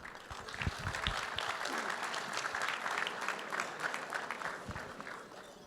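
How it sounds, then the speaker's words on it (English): Sustained audience applause filling a gala hall at an annual community dinner in Washington DC, steady dense clapping at even loudness for the whole stretch, with faint voices mixed in. "a round of applause for each and every one of you"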